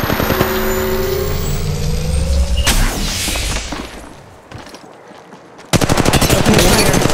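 Gunfire in the shooter game Apex Legends Mobile, including an automatic Mastiff shotgun: loud, dense bursts of rapid shots over engine-like rumble, a short lull, then a heavy renewed barrage.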